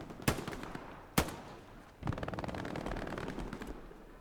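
Gunfire during a Hell Let Loose tournament match: two sharp, loud single shots about a second apart, then a rapid, continuous automatic burst.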